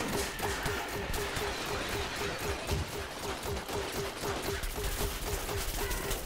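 Rapid gunfire from the video game Plants vs Zombies Garden Warfare 2 rattles continuously in dense, overlapping bursts, with a steady tone running beneath the shooting and no speech.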